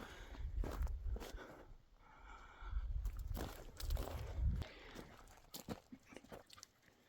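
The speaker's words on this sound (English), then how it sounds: "Here comes the dogs." Dogs come up on a mountaintop old ruin site, their footsteps crunching and padding over rough ground and brush, close and fairly faint, with scattered rustles and no talking.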